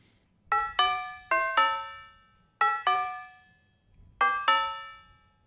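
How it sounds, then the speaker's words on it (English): An isolated bells stem from a song's multitrack plays bright, pitched bell strikes in quick pairs, each ringing out and decaying, heard alone and clear. "But we'll call that bells."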